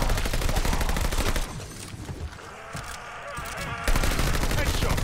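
Rapid automatic gunfire from a Call of Duty: Vanguard zombies match, loud bursts of shots that drop away briefly in the middle and then return close and dense.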